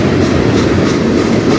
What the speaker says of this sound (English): But this is the second train from the tunnel in like 15 minutes.